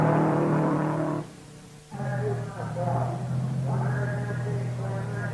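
Race car engine at the 1950 Indianapolis 500 qualifying, a sustained harmonic drone that cuts out briefly then returns steady, heard close with no talk.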